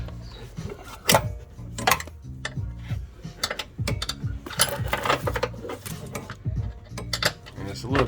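A ratchet wrench with a long 13 socket cranks a front strut bolt on a 3.6-liter Dodge Grand Caravan, giving bursts of close metallic clicking strokes mixed with a person talking.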